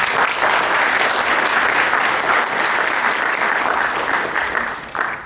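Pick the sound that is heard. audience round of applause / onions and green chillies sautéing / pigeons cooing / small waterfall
audience round of applause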